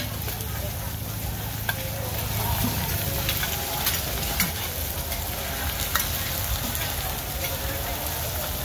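Oyster omelette fries and sizzles in a giant pan while being stirred nonstop, a steady crackling hiss with scraping and clinking of the spatula, fairly close, with faint voices in the background.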